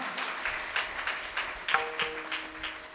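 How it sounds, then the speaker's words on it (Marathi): An audience at a devotional kirtan performance claps for the children, a soft, scattered round of applause with uneven bursts, heard from a distance at low volume, with faint sustained instrument tones underneath. "खरंच एकदा जोरदार टाळ्या झाल्या पाहिजे मुलांसाठी"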